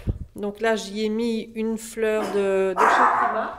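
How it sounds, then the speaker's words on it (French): A pet dog barks and yips in a living room, short sharp calls mixed with someone speaking, the barking fairly close and intermittent. "Là c'est mon chien qui aboie"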